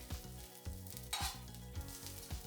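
Chopped onions and green chilies cook in a pan with a low, steady sizzle. A spoon stirs them in regular rhythmic strokes, faint and close, with no voices.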